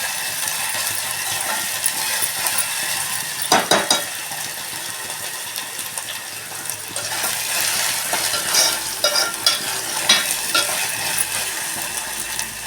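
Chopped onions sizzle steadily in hot oil in a pan while a utensil scrapes and stirs them in a fish fry recipe, a continuous bright frying hiss with a few sharper clicks and scrapes, no voices.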